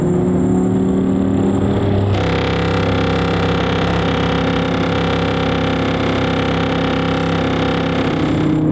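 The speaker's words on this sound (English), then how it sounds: "I can hear the wind, it is crazy out here." Strong wind roars steadily around an off-road V10 supercar on a long-distance durability drive. Engine hum runs underneath, and the broadband rush jumps louder a couple of seconds in, then stays loud and constant.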